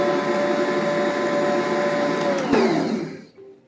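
An electric mixer whirring through coconut cake batter, a steady motor whine that dips in pitch as it slows and then stops, followed by near silence.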